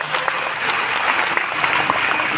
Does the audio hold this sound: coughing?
no